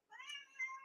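A cat meows repeatedly while being held and restrained, a close, clear run of plaintive cries rising and falling over about a second.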